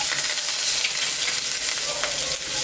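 Asafoetida and curry leaves sautéing in hot oil give a steady, close broadband sizzle with a few faint crackles, loud and continuous with no voices.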